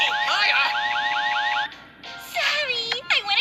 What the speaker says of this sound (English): It's an emergency buzzer!